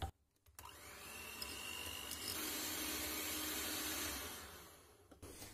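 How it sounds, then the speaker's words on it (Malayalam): An electric hand mixer beats room-temperature butter at low speed, with a steady whirring motor hum that rises after a click, runs for several seconds and then stops. "ലോ സ്പീഡിൽ ഒന്ന് ബീറ്റ് ചെയ്തെടുക്കാം."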